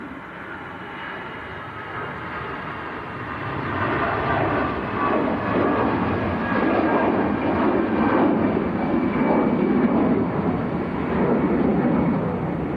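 An EasyJet jet bound for Paris Charles de Gaulle rolls for takeoff at Manchester Airport, a broad distant engine roar that swells after a few seconds and holds steady.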